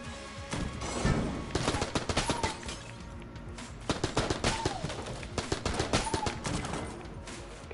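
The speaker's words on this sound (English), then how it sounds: "Just a plain old AK-47, but... nice and effective. Look at how fast that fire rate is" A plain AK-47 firing rapid bursts in a video game, dense crackling shots in several quick volleys with short pauses, loud and close, with faint game sounds between.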